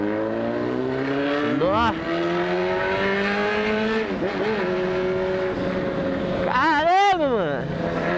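A motorcycle engine idles steadily, then is revved in a couple of rising and falling bursts, loud and close, while a man exclaims briefly over it.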